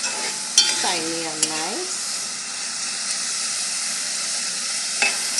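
Onions sautéing in a pan for sausage and vegetables, a soft, even sizzle running beneath a few spoken words and a short hummed or sung phrase, with occasional light utensil taps.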